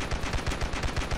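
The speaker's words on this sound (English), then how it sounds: "I'm just holding down the shoot button" Heavy machine gun fire in the Ravenfield video game, a loud unbroken rapid burst of shots with no talking over it.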